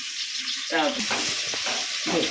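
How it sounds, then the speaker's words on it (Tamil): Onions go into hot frying oil after a batch of fish fry for prawn biryani, setting off a loud, close sizzle that flares as they drop in, with a voice speaking over the crackle. "வெங்காயம் தான் போட்டுக்கிறேன்."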